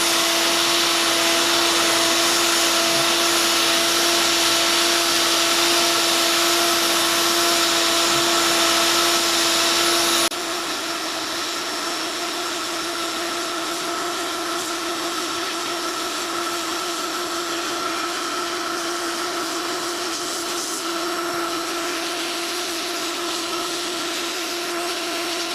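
A hot air plastic welder runs steadily while welding a car's front plastic bumper, a constant blower whine with a strong tonal hum that drops in pitch and loses its low rumble partway through, continuing alone without talk.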